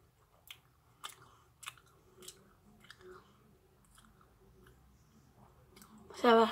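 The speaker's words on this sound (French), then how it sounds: "Je croque dedans une seule fois." Dried fruit is bitten once and chewed close to the mic, with soft repeated crunchy bites and mouth sounds at a steady rhythm, and a brief louder burst at the end.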